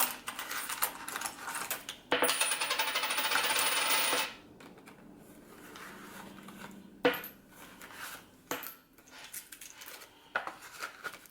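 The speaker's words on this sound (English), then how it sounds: "And then I think we have some change." Loose coins drop and clink as cash envelopes are emptied, a bright jingling burst near the start followed by scattered sharp clinks and rustles over a quiet room.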